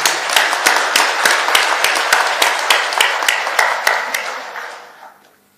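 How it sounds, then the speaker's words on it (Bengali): An audience at a public speech applauds with scattered, rhythmic claps that carry on steadily for several seconds, then fade out. "সবাই মিলে আপনার জোরে হাততালি দেন।"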